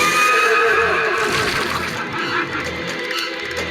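Horse neighing in a farm-animal video game, a loud drawn-out whinny with wavering pitch that fades into quieter breathy snorts.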